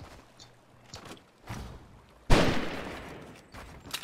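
Gunfire in Fortnite, a few scattered sharp reports followed by one loud, close blast with a lingering decaying tail.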